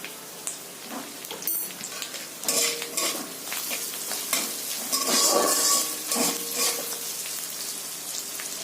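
Ginger paste and salt fry in hot oil in a pan, a crackling sizzle that swells and fades while a utensil stirs and scrapes through it, with no talking.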